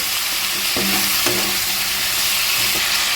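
Mixed vegetables with fresh Malabar spinach stems cook without water in a covered pan over a low gas flame, giving a constant bright hiss and soft sizzle with a few faint scraping knocks.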